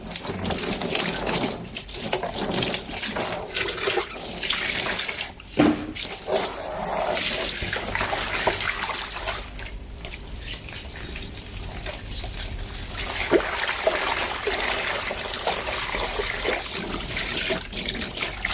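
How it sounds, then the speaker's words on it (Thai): Running water splashes and trickles steadily while a basin is washed out during live daphnia (red worm) culture preparation, a continuous fairly loud wash of water with brief clatters of the basin, no voices. "เราก็จะ ทำการล้างกระมังนะครับ เพื่อจะต้องเตรียม รอบใหม่นะครับ"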